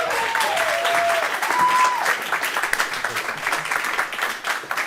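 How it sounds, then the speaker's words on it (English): A comedy club crowd claps and whoops to welcome comedian Armando Anto onstage, with bright whistles over the steady applause, which tapers off toward the end. "Please make a lot of noise for Mr."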